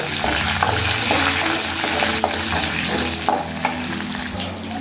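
Mustard seeds, cumin, urad and chana dal and curry leaves fry in hot oil for a Tamil broad beans poriyal, sizzling loudly and continuously with the scrape of stirring and no talk.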